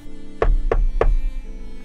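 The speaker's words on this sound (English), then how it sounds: "she heard a gentle rapping on her door" Three gentle knocks on a door, evenly spaced and close, each a soft thud over a low steady hum in a quiet room.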